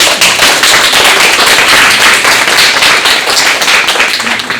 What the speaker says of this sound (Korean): 우리 환영과 축복의 박수 한번.